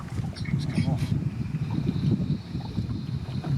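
Outboard engine running on a small fishing boat on Grafham Water, a steady low rumbling drone throughout with wind buffeting the microphone.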